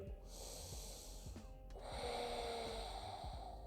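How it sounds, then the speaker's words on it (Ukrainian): A long, deep inhalation during a seated office yoga session, heard as a close, steady breath swelling gradually in strength over several seconds, with no talk. "І заключний глибокий вдих."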